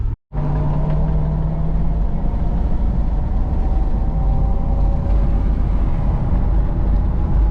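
Grappler tires on a lifted Chevrolet Tahoe cruising the highway give a steady, loud droning road roar with a constant low hum, after a brief cut at the start.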